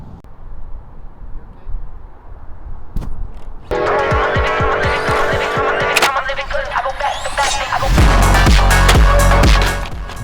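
A Traxxas MiniSlash RC car whines up to speed with its tires skidding and squealing in bursts, growing louder and denser toward the end, with rattling impacts and a faint voice in the background.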